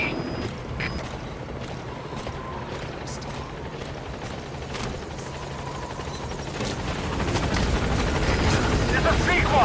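Helicopter arriving at a landing zone in Metal Gear Solid V, a loud steady rotor roar with blade chop that swells as it draws nearer, with radio-style voice chatter over it.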